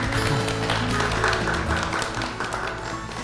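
An audience claps for several seconds at a talk event in Korea, a dense, steady applause that fades slightly toward the end.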